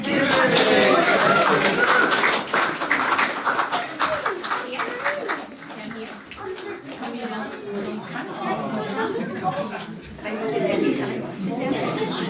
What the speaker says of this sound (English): young artists, let's give them a little clap.